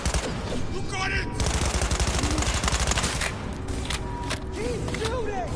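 Sustained automatic gunfire in Cyberpunk 2077: a rapid chattering burst of machine-gun fire runs through the first half, followed by scattered single shots amid battle noise, with voices shouting over it.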